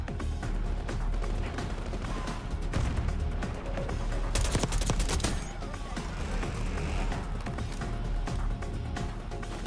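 Rapid AK74 automatic fire in Black Ops 6 rattles in dense bursts, with mechanical clatter and other shots in the match. The gunfire is loud and continuous throughout.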